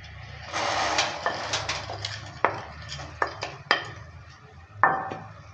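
Fried boondi are stirred into sticky sugar syrup for ladoo, giving a series of sharp spoon scrapes and clinks against the pan at irregular intervals over a soft rustling mix, close and moderately loud.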